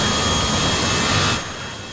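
A jet engine roars at a steady, loud, broadband pitch as a plane departs the airport in the Airport CEO management game. The sound holds constant, then drops off sharply partway through and continues at a lower level, with no voices.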